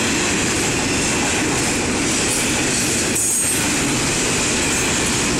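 Norfolk Southern 9656 freight train rolling through Effingham, Illinois, near and loud, a steady roar of railcars with clattering wheels and metallic squeal, briefly dipping before resuming.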